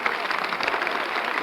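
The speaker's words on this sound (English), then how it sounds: "They're applauding you." A crowd applauding steadily, a dense wash of clapping hands heard briefly and at moderate distance.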